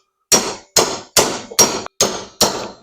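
Six sharp metal-on-steel hammer strikes ring out at an even pace, close and loud, as a bolt is driven against steel motor cradle bushings on a B200RSV in a garage, each blow followed by a short decaying clang.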